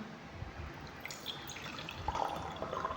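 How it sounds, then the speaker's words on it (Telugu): Water is poured into a container for a liquid detergent demonstration, a soft, low splashing pour that swells and becomes brighter toward the end, heard fairly close with no talking. "దీనిలో సగం వాటర్ తీసుకున్నాం."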